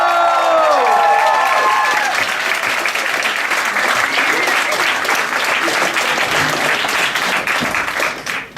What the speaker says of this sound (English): Give him a really big round of applause, because here is Francesco Contino!